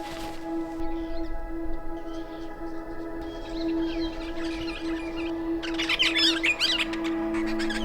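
Birds chirping around a cold, crisp morning campsite in the Flinders Ranges on a solo motorbike camping trip, faint scattered calls at first, growing busier and closer toward the end over a steady background hum.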